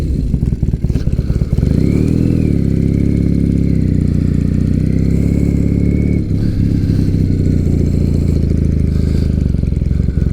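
A motorcycle engine, either a Harley-Davidson Softail or Sportster or a Triumph Bonneville, runs loud and close, revving up and settling into a steady throbbing idle with rhythmic clatter as the ride begins.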